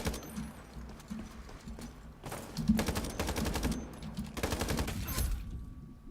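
Rapid automatic gunfire from the online PC shooter Iron Sight comes in two sustained bursts of fast, crackling shots over a steady game background.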